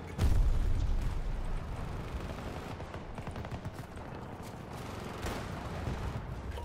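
Rapid gunfire in Battlefield 2042 rattles continuously in dense bursts, loud and sustained, with a heavier blast at the start.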